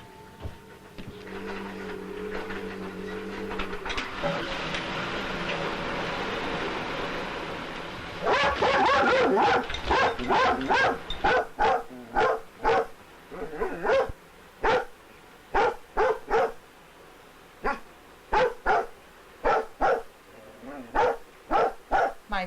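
A dog barks in sharp, repeated bursts at a running washing machine in a home, loud and close, following a steady hum of the machine; a brief voice is heard early on.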